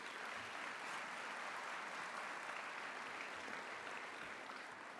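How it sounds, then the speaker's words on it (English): Audience applause greeting students and sponsors at a business conversation event, a steady dense wash of clapping from a large crowd lasting throughout, fairly quiet and without speech. "Let us greet the students and thank our sponsors with a nice round of applause."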